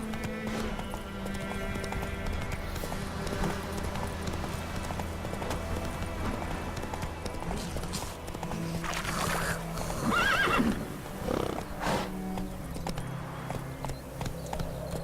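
Roach, a horse in The Witcher video game, gallops with steady rhythmic clip-clop hoofbeats throughout, a loud neigh and whinny bursting out near the middle, with dense game ambience underneath.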